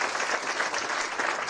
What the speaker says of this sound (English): So they need a real round of applause because they are amazing, amazing people.